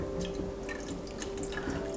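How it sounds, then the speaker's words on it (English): A hand coated in teff injera batter is rinsed with leftover water, giving soft drips and small splashes into a bowl, quiet and close, without talking. "So I'm just rinsing my hand with the water that I had left over from earlier"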